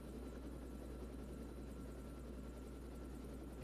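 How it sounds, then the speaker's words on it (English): Steady, loud helicopter rotor drone in the video game Cabela's Dangerous Hunts 2, a dense continuous thrum holding at a constant level with no voices. "the first level of Siberia is pretty much just sniping boars from a helicopter"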